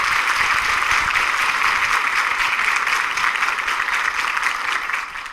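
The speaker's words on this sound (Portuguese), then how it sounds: "Muito aplaudidos, quer dizer que todos adoraram aqui." An audience at a tax management forum applauds after a speaker's talk, a steady, even roar of many hands clapping that continues throughout and tapers off slightly at the end.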